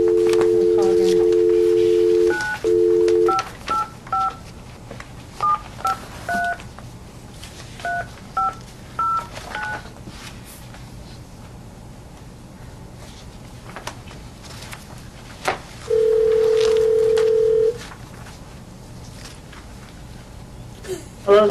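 Touch-tone telephone dialing, a run of short DTMF beeps at an even pace, then a long steady ringback tone for an outgoing call, with faint room noise in between.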